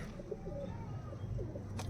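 Imported pigeons in a loft give soft, repeated low coos at moderate distance over a steady background hum, with a brief bright rustle near the end.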